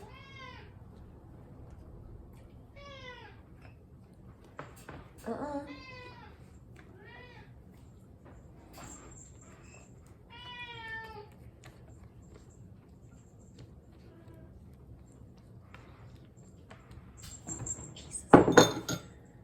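A chatty cat meows in a home kitchen while bread is being made, giving several drawn-out, wavering meows spread over the clip, with clinks of dishes and a clatter near the end.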